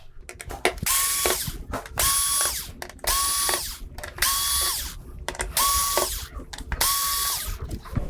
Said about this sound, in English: So after we get the screws released, that should be the main board free from the unit.